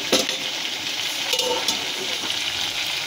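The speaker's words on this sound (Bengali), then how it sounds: "এরকম করে সুন্দরভাবে কষাতে থাকবো আমরা, একটু চাপা চাপা দিয়ে।" Potatoes for Kashmiri aloo dum sauté in a pan and are stirred and pressed, making a loud, steady sizzle with scraping stir sounds close by and no voice.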